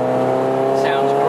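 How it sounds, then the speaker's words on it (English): 1999 MGF VVC with a new stainless steel exhaust, its engine running at a steady, loud drone, with a voice speaking over it. "it's got a new stainless steel exhaust"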